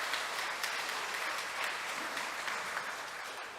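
Church congregation applauding to thank two deaconesses who sang a hymn during a Sunday worship service, a steady, even wash of many hands clapping at moderate distance, sustained throughout with no voices on top.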